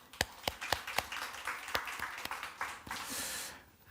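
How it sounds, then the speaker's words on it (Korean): A church congregation claps in praise, with several sharp, separate claps ringing out in an uneven rhythm before blending into a brief, soft burst of applause. "우리 하나님께 영광의 박수를 내드릴까요?"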